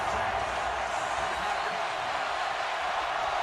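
A packed football stadium crowd at an LSU vs Auburn college game roars in a steady, dense wash of cheering that holds at full volume without a break.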